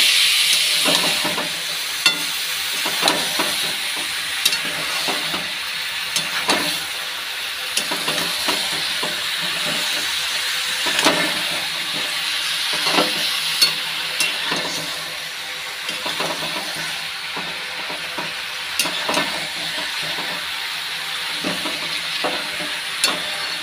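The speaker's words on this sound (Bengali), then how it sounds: "মশলা একটু ভাজা হয়ে যায়" Spices (masala) fried in a pan, a long, steady sizzle with frequent spatula scrapes and taps against the pan scattered throughout, moderately loud and close, with no voices.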